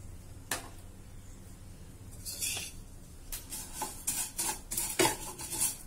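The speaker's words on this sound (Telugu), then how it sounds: "ఇలా తిప్పుకుంటూ ఫ్రై చేసుకోండి." Vermicelli stirred in ghee in a pan for sewai kesari, a quiet dry sizzle broken by repeated sharp scrapes and clinks of a spoon against the pan, growing busier toward the end, no one speaking.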